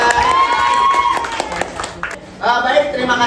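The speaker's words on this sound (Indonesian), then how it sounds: "Tepuk tangan buat kelompok Sesia." Children in a classroom clap and cheer for a student group after its presentation, a loud burst of applause and shouting that dips midway and then swells again, with voices mixed throughout.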